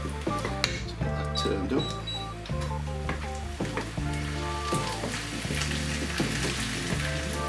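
Beef sizzles and fries in a pan as black bean sauce is added, with the crackling bursts of frying and scraping stir sounds close by, and a brief voice speaking under it.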